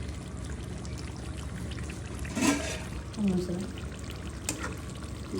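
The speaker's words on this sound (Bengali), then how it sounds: "দিয়ে দিব একটু পানি" Water is poured into a pan of broiler chicken roast with chili, two short splashing pours standing out over a steady kitchen background.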